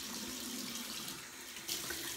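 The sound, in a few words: lukewarm tap water running for face cleansing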